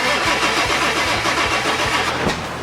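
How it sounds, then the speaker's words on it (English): A 1997 Ford 7.3 Powerstroke diesel engine being cranked over by the starter, a loud, close, rhythmic chugging that keeps going without catching. "So we are going to fire it up and make sure we have oil coming out of each injector."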